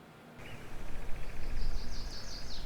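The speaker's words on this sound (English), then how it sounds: "So right now I'm just hearing birds in the background," Bird calls in a game environment built with GameGuru Max: a few short chirps and a repeating trill of tweets over steady ambient background noise, moderately clear and close.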